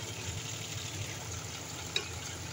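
Fish and potatoes fry in a pan for a Bengali home meal, giving a steady, even sizzle throughout with one brief sharp click near the end.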